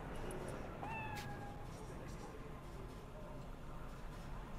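A cat meows in the Cyberpunk 2077 video game, a couple of short tonal cries over a steady layer of in-game background noise.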